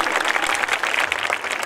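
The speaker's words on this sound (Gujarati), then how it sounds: "એક વાર જોરદાર તાળીઓ થઈ જાય" Loud, dense applause from an audience at a Navratri garba program in Bhavnagar, steady clapping that fills the whole stretch without a break.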